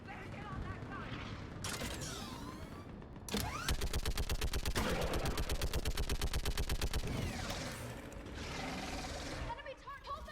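Mounted gun firing in the video game Mass Effect: a rapid, loud, evenly spaced burst of shots running for several seconds, framed by other explosions and battle noise, with voices shouting.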